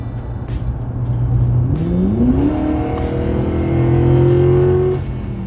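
Mercury Marauder fitted with Metco suspension accelerating hard, a loud close engine rising steadily in pitch through the gears with a brief shift partway, strong and continuous with no talking.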